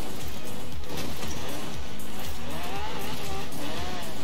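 Car engine in Forza Horizon 4 roars loud and continuous under power while the tires spin and slip, with revving pitch sweeps and some scrabbling noise throughout.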